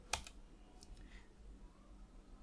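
One sharp, close click of the Enter key on a computer keyboard, followed by a few faint, softer key taps against a quiet room hum.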